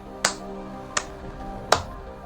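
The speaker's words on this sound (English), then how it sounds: "And do the golf clap from Augusta." Three slow, isolated hand claps, sharp and close, spaced well apart in a polite golf-clap style with no other sound around them.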